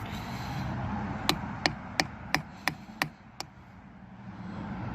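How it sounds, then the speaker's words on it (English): Seven sharp hammer knocks on a homemade canopy weight, evenly spaced about a third of a second apart, close and distinct over a low steady background hum. "with the hammer and knock it in."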